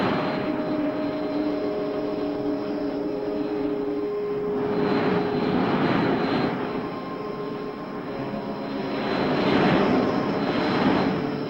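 A cartoon aircraft comes in to land, a steady engine drone with a sustained whine that swells and fades in slow waves, loud and continuous with no voices over it.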